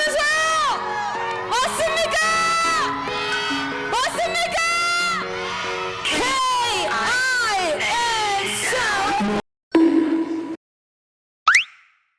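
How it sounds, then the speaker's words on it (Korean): A crowd at a women's football awards ceremony cheers loudly, with high voices whooping and shouting, and the noise breaks off abruptly near the end. "큰 박수 부탁드릴게요."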